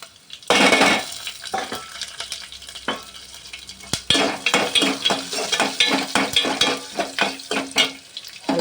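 Cumin, fenugreek and ginger fry in a garlic tempering in a pan, giving a close crackling sizzle with repeated scraping stirs and light clinks of a spoon against the pan.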